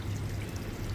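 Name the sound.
water being poured out of a fish tank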